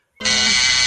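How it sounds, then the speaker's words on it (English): A game show buzzer sounds abruptly and holds as a loud, harsh, steady electronic tone that starts after a short silence and continues to the end. "It's like Whose Line with Drew Carey's buzzer"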